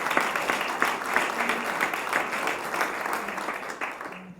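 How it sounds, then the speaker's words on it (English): An audience gives students a round of applause, steady crowded clapping at close range that holds for several seconds before starting to fade. "Let's get one more round of applause for these students here who are doing such a fantastic job."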